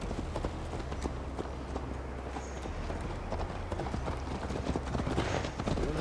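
Horses ride in the video game Assassin's Creed Valhalla, their hooves clip-clopping in a steady rapid rhythm, close and continuous over a low rumble.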